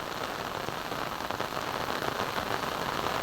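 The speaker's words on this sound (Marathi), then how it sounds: "आता पाऊस कमी झालाय बघा।" Steady rain falling on surfaces over farm fields during the monsoon sowing season, a dense, even hiss of drops close by with no pauses and no voices.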